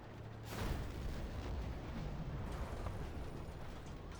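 A tank takes a hit in the Armored Warfare video game, a dull booming impact over a steady low rumble of engine and battle noise that lasts through the clip, with no talk.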